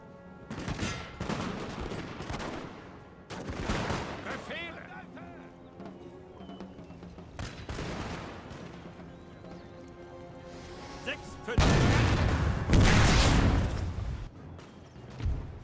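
Musket volleys and artillery in the Napoleon Total War battle game, with bursts of crackling volley fire and heavy booms coming in irregular waves, alternating with quieter stretches and under occasional talk.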